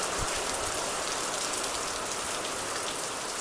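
Steady rain pours down in a village in Gujarat, an even, dense hiss of drops on surfaces, moderately loud and continuous with no voices or other sounds.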